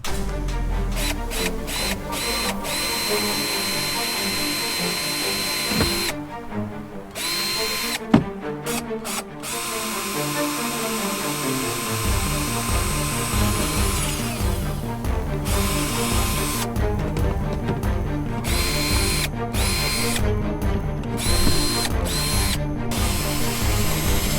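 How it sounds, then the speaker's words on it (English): A power drill whirs in repeated bursts, starting and stopping as it bores holes in a boat's cooler lid, with ratcheting mechanical clicks close by and steady machine noise underneath. "Okay, mark and drill."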